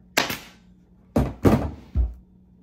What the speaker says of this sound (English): I'm even going to put a staple right here.